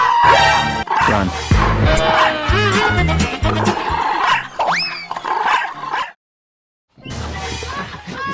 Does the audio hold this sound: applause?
no